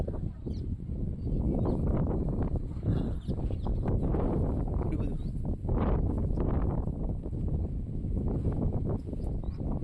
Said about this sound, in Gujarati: અત્યારે બહુ પવન ઉડવાનો ચાલુ થઈ ગયો છે